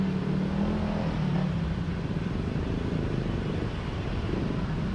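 A Honda PCX scooter passing along a city road beside a bus lane, its mid-pitched engine hum steady and moderately close amid continuous traffic noise, no talking.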